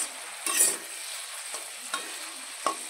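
Food fries quietly in mustard oil with salt and turmeric, a soft continuous sizzle broken by a few short scrapes of stirring.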